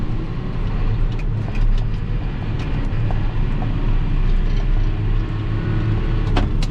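A new tractor driving along a road in fourth gear, a steady, loud, close engine drone with low rumble and wind or road noise, continuous and without speech.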